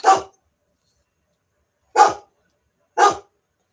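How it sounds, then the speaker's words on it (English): A dog gives three sharp, loud barks close by, one at the start and two more about a second apart after a long pause, with silence in between. "before the dog wakes everyone up in the neighbourhood"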